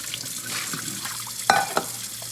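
Kitchen cookware is rinsed under a running tap, with a soft, faint stream of water broken by two sharp clinks of metal close by.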